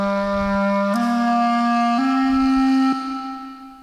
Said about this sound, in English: What you're hearing is a guy learning to play clarinet as we're recording.